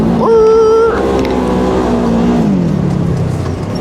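Polaris XP 1000 side-by-side engine revving hard while drifting, a loud steady roar with a high rising whine that holds and then drops lower as the revs fall, close and continuous.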